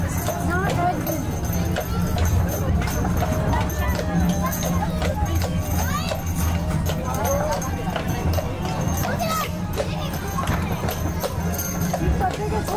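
Horse hooves clip-clop in a steady rhythmic patter on hard ground at Magic Kingdom, Walt Disney World, on a Halloween party night, mixed with background chatter and crowd noise.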